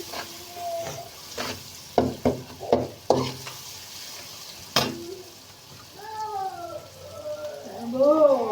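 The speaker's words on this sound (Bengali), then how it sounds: "এগুলোকে খুব ভালোভাবে একটু কষিয়ে নিচ্ছি।" Spices and ingredients sauté and get stirred in a pan, with scraping clatters of a spatula in bursts, a low background sizzle and a higher whining sound toward the end.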